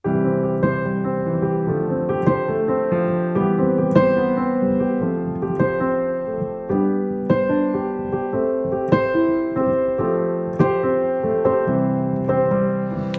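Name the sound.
piano piece improvised with power-chord-spiced chords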